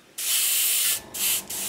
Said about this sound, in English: So when we spray this on, it looks wet.